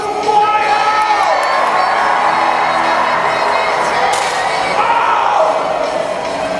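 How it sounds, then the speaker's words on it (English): A loud crowd cheers and whoops without a break at a live jousting show, with scattered shouts and a few sharp knocks as the knights charge during a 2019 fair. "And the crowd goes wild!"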